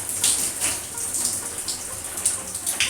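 Water from a short shower hose splashes over wet hair being rinsed, a close, steady hiss with uneven bursts of spatter as the stream moves, and no talk.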